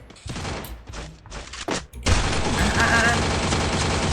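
Gunfire in the Free Fire mobile game during a one-on-one match, a few scattered shots with voices overlapping early on, then a sustained, loud burst of rapid automatic fire continuing to the end.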